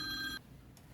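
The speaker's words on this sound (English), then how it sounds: "now our phone's ringing again" A phone rings with a bright electronic tone for under half a second, then cuts off, leaving a quiet room with no one speaking.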